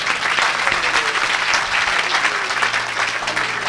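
A church congregation applauds to acclaim the Lord, with a dense, continuous wash of many hands clapping, loud and sustained throughout.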